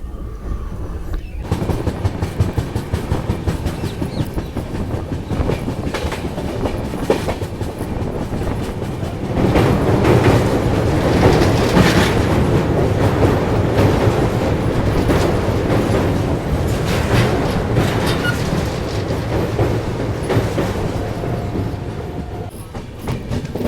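A Khajuraho Udaipur Express train rolls out of Chittorgarh on the Udaipur line, a steady loud rumble with rhythmic clickety-clack from the wheels that grows heavier midway and keeps going throughout.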